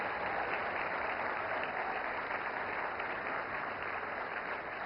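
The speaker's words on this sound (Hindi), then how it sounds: "जोरदार तालियां" Applause at the 70th National Film Awards presentation ceremony as an award is received, a steady, dense wash of clapping from a large audience, continuous and even throughout.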